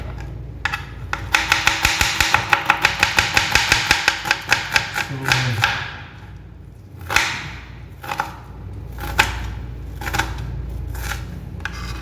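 A knife chops onions on a board for a village-style fish head curry, a quick run of evenly spaced close cuts that thin out into slower, scattered strokes.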